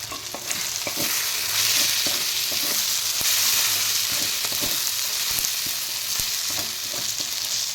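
Mutton masala with chili powder and a little salt frying in a pan, a steady close sizzle with frequent clicks and scrapes from stirring throughout.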